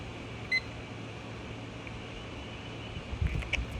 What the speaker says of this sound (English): So I'm going to go ahead and start the timer.